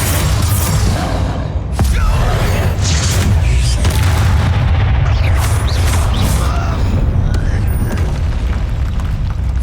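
Spells in Hogwarts Legacy combat, such as Confringo and Bombarda, burst into a relentless stream of loud booms, crashes and pops, close and heavy throughout, with occasional voices shouting amid the blasts.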